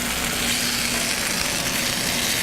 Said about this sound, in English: And you can still hear it crackling and frying under there.